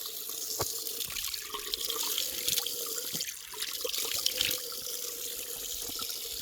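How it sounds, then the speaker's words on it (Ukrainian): Holy spring water flowing out from under a cave near a monastery in Calabria, a steady close splashing trickle with continuous bubbling and dripping, alone without talk. "Під печери витікає свята водичка"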